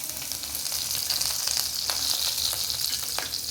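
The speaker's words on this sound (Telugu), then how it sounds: "ఇవన్నీ ఒకసారి బాగా వేగాలండి" Garlic and tempering spices fry in hot oil with a little turmeric in a kadai for an amaranth-leaf stir-fry, giving a steady close sizzle dotted with small crackling pops.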